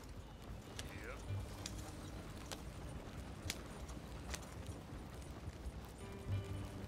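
Steady clip-clop of horse hooves at a brisk pace in a video game, over constant background noise, with occasional sharp clicks.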